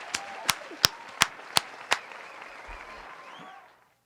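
Six slow, evenly spaced hand claps ring out close and sharp, followed by a quiet tail that fades to silence.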